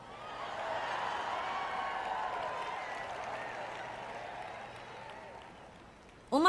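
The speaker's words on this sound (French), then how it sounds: "On m'applaudit beaucoup ce soir parce qu'il y a plus de femmes ici ce soir que d'hommes" Audience at a Joyce Meyer sermon in French breaks into sustained applause, swelling quickly and then tapering off before a voice resumes at the end.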